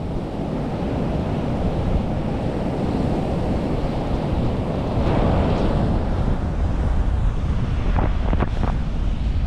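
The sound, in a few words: ocean waves crashing at Stuart Beach shore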